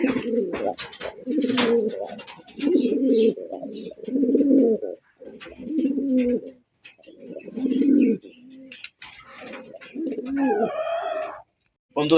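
Pigeons coo in repeated throaty bursts, close and loud, with short pauses between phrases and brief wing or handling noises at times.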